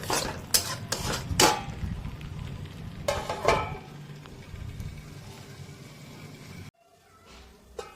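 A metal spatula scrapes and clanks against a pan while stirring paneer masala, with several sharp metallic knocks early on and a soft background sizzle before the sound abruptly drops away.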